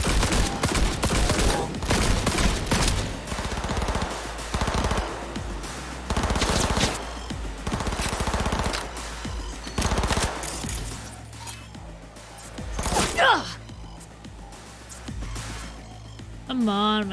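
Automatic and rapid gunfire from a firefight in the video game Cyberpunk 2077, played on hard difficulty, with dense repeated bursts through most of the stretch and a person talking over the shooting.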